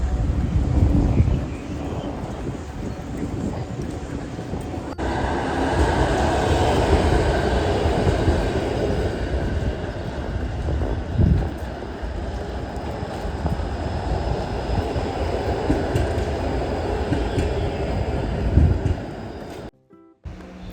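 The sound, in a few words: tram passing along the street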